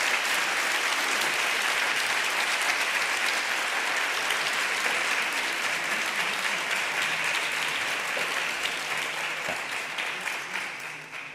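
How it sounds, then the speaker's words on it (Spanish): A crowd at a comic festival presentation applauds for a long stretch, steady thick clapping filling the room and gradually thinning out near the end. "Un aplauso, por favor."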